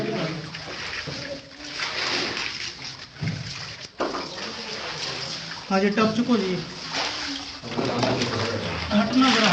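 Water splashes and sloshes during the ritual washing (ghusl) at Dada Sain's shrine during the 2018 urs, in repeated bursts under constant loud talking and crowd voices.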